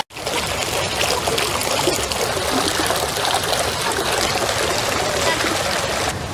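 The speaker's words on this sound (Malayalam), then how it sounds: "അടിപൊളിയായിട്ട് മേലിൽ നിന്ന് ഇങ്ങനെ വെള്ളം താഴേക്ക് വരുന്നത്" Water pours continuously down from a structure in Umm Al Emarat Park in Abu Dhabi, making a steady, full rushing splash that stays close and even throughout.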